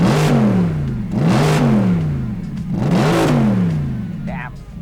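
A modified Mercedes-Benz SLS AMG engine, about ten years old, revs loudly three times at close range. Each blip sweeps up sharply and then falls away with a throaty tone.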